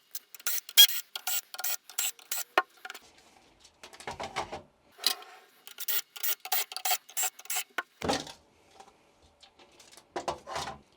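Small screws being worked out of the arm covers of a Paragon M, heard as close, raspy bursts of driver whirring that start and stop in short, repeated runs over a quiet background.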